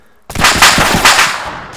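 Heavy machine gun fire in the military video game Arma 2, a loud sudden burst of several rapid, booming shots that then fade out, with no talk.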